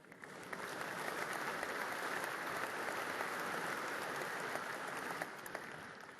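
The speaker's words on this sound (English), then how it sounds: "That's a round of applause, please." A large keynote audience at a tech conference breaks into steady, dense applause, a continuous roar of many hands lasting several seconds before tapering slightly at the end.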